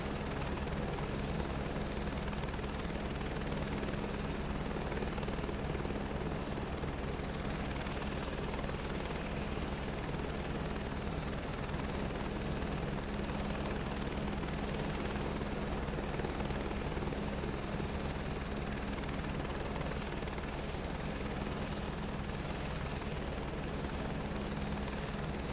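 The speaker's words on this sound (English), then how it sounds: "for this landing I'm going to be outside just to showcase how different the helicopter reacts to platforms" A helicopter in Microsoft Flight Simulator 2024 lands on a platform, heard from outside as a constant, loud rotor thrum and engine drone with a steady low beat, unbroken for the whole stretch and free of voices.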